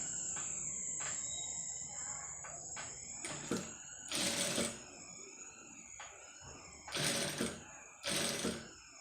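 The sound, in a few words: sewing machine stitching thread piping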